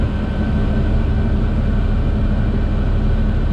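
Steady heavy machinery roar with a low rhythmic churning from a Class 820 forage harvester chopping corn and sudan grass silage, loud and close, unbroken for the whole stretch with no voices.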